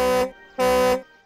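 Two loud, buzzy horn-like blasts of a cartoon tow truck siren in a Peppa Pig episode, each lasting about a quarter second with a short gap between them.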